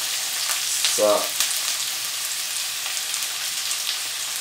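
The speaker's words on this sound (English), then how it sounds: "Let's fry off this." Broccoli and carrots frying in a hot pan, a steady close sizzle throughout with a brief louder crackle near the start and a voice speaking briefly over it.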